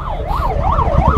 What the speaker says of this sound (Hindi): फोन रखोगे तो साइरन सुनाई दे देगा